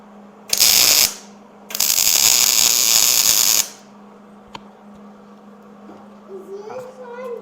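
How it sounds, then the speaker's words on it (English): Welder tack welding an engine mount on a John Deere 316 garden tractor during a Kubota diesel swap: two loud sustained buzzing bursts, a short one then a longer one, over a steady hum, with a voice briefly after. "I'm gonna weld again."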